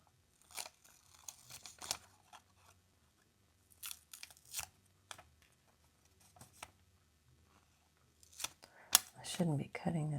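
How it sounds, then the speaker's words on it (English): Scissors cut out a piece of paper over a book in several separate close bursts of crisp snipping and crinkling, spread out with quiet pauses between them. "I'm just going to cut this out."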